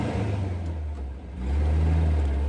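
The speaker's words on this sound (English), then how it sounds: "This is a American Speedster, Porsche Speedster replica." Low, steady rumble of a Porsche 356 Speedster replica's engine idling nearby, dipping briefly before swelling again into a fuller drone.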